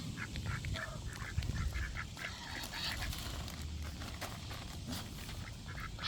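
Ducks quack and honk in a noisy outdoor cluster, repeated overlapping calls fairly close over a rough background rumble.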